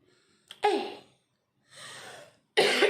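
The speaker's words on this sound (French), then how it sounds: "je tousse là et puis je suis essoufflé" A man gives three harsh, close coughs, each a short burst separated by brief silences, the last one loud and abrupt.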